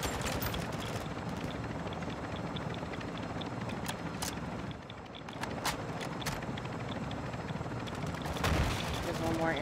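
Helicopter in Warzone 2 DMZ, a continuous loud rotor drone filling the whole stretch, with scattered gunshots cracking over it and players talking.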